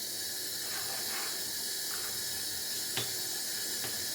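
Tap water runs steadily into a sink while a paint brush is rinsed under it, a constant close hiss broken by a few small clicks and knocks.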